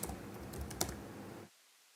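Computer keyboard typing during a software install walkthrough, a short soft burst of key clicks over a hiss that cuts out abruptly, no talking.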